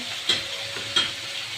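Peas being stirred in a frying pan, giving a soft continuous sizzle broken by two quick scraping stirs, close and fairly quiet with no voices.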